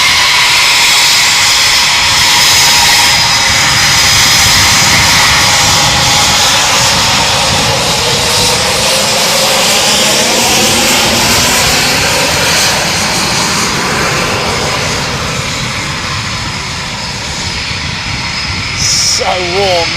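RAF Eurofighter Typhoon jets of No. 3 Squadron roar steadily and loudly nearby at RAF Coningsby, a sustained broadband engine rush that shifts slightly in pitch as the aircraft moves, with no voices heard.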